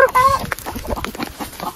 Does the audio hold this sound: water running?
no